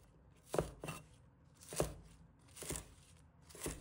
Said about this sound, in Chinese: 几根小葱，把它切成小段。